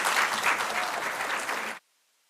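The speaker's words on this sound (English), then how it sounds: "Give yourselves a round of applause as well." Parents and family members at a stole-donning ceremony clap together in a room, a dense, loud burst of applause that holds steady for nearly two seconds, then stops abruptly into silence.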